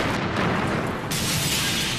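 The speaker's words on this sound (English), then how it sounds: "the air is shattered by a massive explosion" A massive bomb detonates outside the American embassy in Nairobi in 1998, a loud, dense roar of blast noise filling the whole clip, swelling brighter toward the end with no voices.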